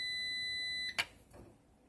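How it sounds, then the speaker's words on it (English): A steady high-pitched electronic tone sounds for about a second, then cuts off with a click, followed by faint room noise. "I hit escape and see the beep is back"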